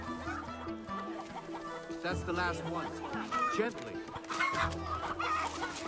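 A chicken clucks repeatedly in an animated film scene, mixed with orchestral music, other effects and talk.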